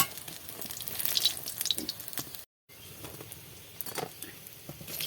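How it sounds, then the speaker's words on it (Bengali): Pointed gourd fritters fry in hot oil with a steady, fairly quiet sizzle and scattered crackles, broken by a brief silent gap, with no talking. "এইভাবে সব বড়াগুলো আমি ভেজে নেব"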